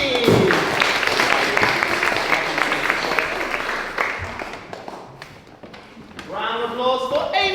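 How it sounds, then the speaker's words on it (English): Applause at a school leavers service at Charlton Horethorne, July 2021: a burst of clapping under a voice, fading in the middle, then talk over thinner claps near the end. "Round of applause for Gilly!"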